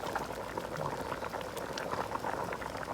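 A pot of homestyle bamboo shoot curry with fermented fish bubbles at a rolling boil, with a dense, continuous close-up burble and no voices.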